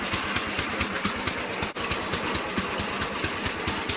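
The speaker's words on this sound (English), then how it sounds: "even when I force it, you can hear all the pulleys. They're rubbing. They're still caught on." A 1989 Sears lawn tractor engine runs steadily nearby with a rhythmic thumping pulse, while misadjusted mower pulleys rub and scrape underneath, one brief dropout midway.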